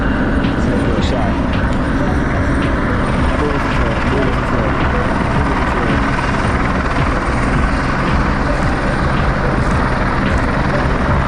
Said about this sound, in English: Another chopper coming in.